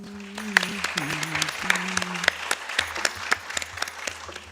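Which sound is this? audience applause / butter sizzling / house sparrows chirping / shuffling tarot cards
audience applause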